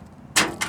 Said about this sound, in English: So I need to open the doors up.